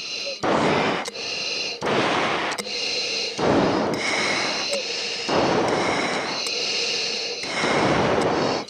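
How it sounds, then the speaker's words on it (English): A pilot riding in the back seat of an F-16 during a high-G demo breathes hard. Forceful, strained breaths come in a repeating rhythm of about five heavy pushes, close to the microphone. "A little bit of heavy breathing."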